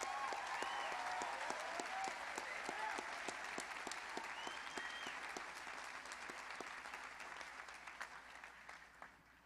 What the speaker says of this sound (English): Let's give this class a big round of applause for making it to this moment